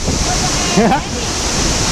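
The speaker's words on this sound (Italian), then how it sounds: "siamo sotto una cascata enorme" Roaring water from beneath a huge waterfall at Fontanone di Goriuda near Chiusaforte, a steady broadband rush with wind buffeting the microphone and a brief voice cutting through near the middle.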